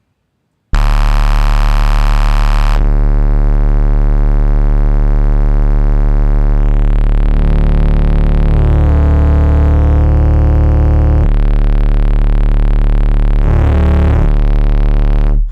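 Heavily distorted synth tone run through a wave shaper with the gain pushed to maximum, a loud buzzing, harmonically dense drone that shifts in pitch and texture partway through.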